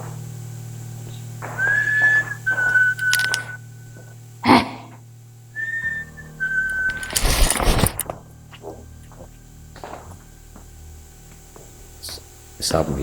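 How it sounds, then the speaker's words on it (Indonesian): Someone whistles several sustained tones, short rising notes and held pitches in a few separate bursts, amid speech, a steady background hum, and occasional knocks and rustles. "Saya bilang jangan bersiul."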